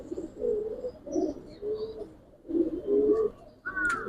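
Giribaz pigeons coo in soft repeated phrases, a few close low calls with short gaps between them, and a brief higher chirp at the end.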